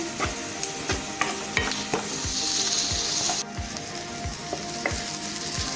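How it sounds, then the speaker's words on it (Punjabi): Onions frying in a pan, stirred with regular scraping strokes roughly every second over a constant sizzle, with a brief louder hiss in the middle, close by and without talk. "ਹੁਣ ਸਾਡੇ ਗੰਢੇ ਜਿਹੜੇ ਨੇ ਉਹ ਭੁੰਨੇ ਗਏ ਨੇ, ਪਿੰਕਿਸ਼ ਬਰਾਊਨ ਹੋ ਗਏ ਨੇ"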